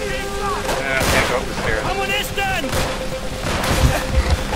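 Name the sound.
gunfire in the video game Call of Duty World at War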